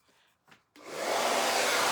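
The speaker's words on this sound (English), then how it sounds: "let me blow dry that real quick" A hair dryer switches on after a couple of faint knocks and blows loudly and steadily, drying a craft test project up close.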